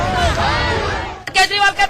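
Striking municipal workers protesting loudly outside an official's house in Delhi, a crowd shouting and chanting together, with a rising collective roar and bursts of slogans near the end.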